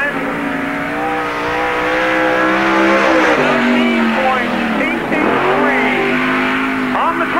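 A stock car runs a qualifying lap at Park Jefferson Speedway in a 1997 NASCAR Busch All Star Tour event, its engine roaring loud and steady throughout with rising and falling pitch as it circles the track.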